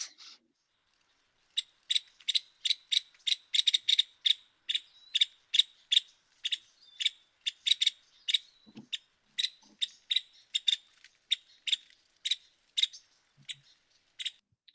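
A woodpecker, not a pileated, repeats a series of sharp, high-pitched call notes in a quick, fairly regular rhythm, clear and isolated against near silence outdoors, with a brief pause near the start.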